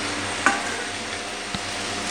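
Chillies, peanuts and garlic fry in a pan as an even, faint sizzle, broken by two small clicks of stirring or ingredients dropping in, with no talking.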